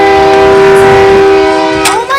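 A train passes close by, its loud sustained horn blaring alone before tailing off with a brief rumble at the end.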